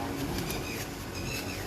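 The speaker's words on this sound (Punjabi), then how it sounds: "ਕਬੂਤਰ ਆਪਣੇ ਹੱਥ 'ਚ ਫੜਿਆ ਹੈ।" A pigeon held in the hand coos softly, low steady murmurs running through the whole moment against faint background noise.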